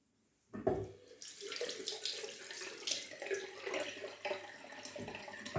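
Tap water starts abruptly and runs steadily into a sink during shaving preparation, a close, hissing splash that continues evenly to the end.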